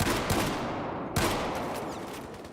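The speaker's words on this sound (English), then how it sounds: "We have a shotgun." Shotgun fire in a video game: two loud, close booming blasts about a second apart, each trailing into a rumbling decay over steady game ambience.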